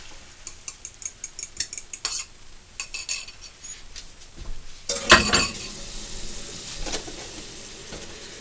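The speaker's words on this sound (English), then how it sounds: "pop my eggs in" Eggs go into a hot pan for fried rice made from leftovers, with a brief burst of sizzling and frying amid stirring and the clink of utensils against the pan.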